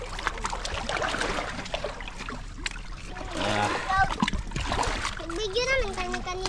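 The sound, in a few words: sea waves splashing in wind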